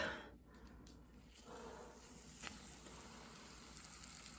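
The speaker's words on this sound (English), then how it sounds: "You hear them starting to fry a little bit." Chicken fried steaks frying in a pan, a steady quiet sizzle that builds slightly after the first second and holds low and continuous throughout.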